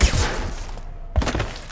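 Gunfire in the sci-fi game Mass Effect 2, two sharp bursts of shots close by, separated by a brief quiet gap, with no talking over them.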